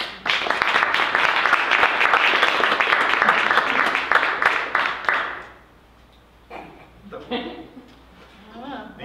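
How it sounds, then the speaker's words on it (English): Audience applause at a poetry reading and book signing in a bookstore, a dense wash of clapping for about five seconds that then stops, leaving quiet room sound and a few brief murmurs. "there's more clapping"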